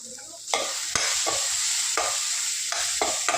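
Spiced masala for sambar frying in a pan with repeated stirring strokes, scraping bursts breaking through a steady close sizzle, no voices.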